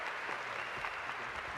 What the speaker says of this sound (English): that was a lot of applause for the first loser